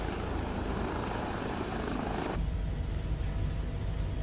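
A helicopter flies in a multiplayer video game, its steady rotor drone loud and continuous throughout, the sound abruptly thinning in tone partway through with no talking.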